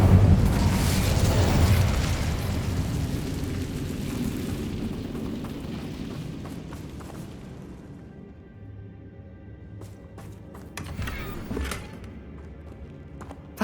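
An Incendio fire spell is cast in Hogwarts Legacy inside a mine, a loud fiery blast and roar that slowly dies away over several seconds, followed by a few faint clanks and thuds.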